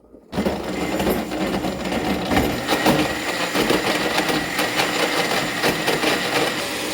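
Countertop blender whirring through coconut pieces for a Christmas dessert, a loud, steady grinding drone that starts abruptly after a brief quiet moment and runs continuously, with no talking.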